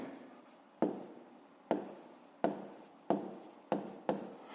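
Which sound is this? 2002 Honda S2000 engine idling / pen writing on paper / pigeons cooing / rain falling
pen writing on paper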